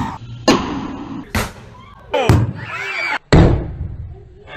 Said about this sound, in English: for starters, we have explosions.